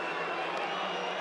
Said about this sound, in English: You hear what the crowd think of that?